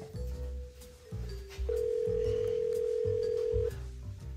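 A telephone tone plays, a short pulse followed by a long steady beep lasting about two seconds, fairly quiet, over low background sounds while a number is dialed.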